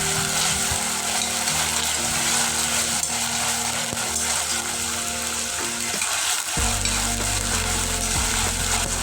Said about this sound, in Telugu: వెల్లుల్లి పేస్ట్ మంచిగా పచ్చివాసన పోయేదాకా ఫ్రై చేసుకోవాలి.